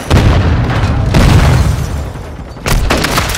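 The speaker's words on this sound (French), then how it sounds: "J'utilise une charge de coup." A breaching charge detonates in Call of Duty: Modern Warfare II, a loud booming blast with sustained rumbling roar, followed by a second heavy burst near the end amid ongoing combat noise.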